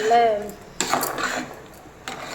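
A spoon scraping and clanking against a cooking pot as mutton curry with mint and coriander is stirred, a few loud metallic knocks over a short stretch, close up.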